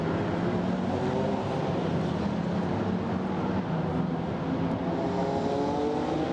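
GT4 race cars circulate at Brands Hatch on a busy race day, engines droning in a continuous roar with rising and falling pitch as they pass, loud and steady, with no commentary over it.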